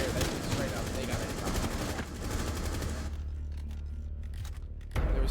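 Terrorists firing in Rainbow Six Siege, a dense rapid stream of automatic gunfire for about three seconds, then quieter scattered shots and a final loud burst.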